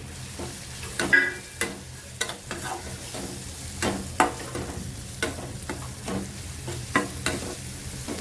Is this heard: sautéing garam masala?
yes